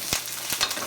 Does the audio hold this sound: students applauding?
no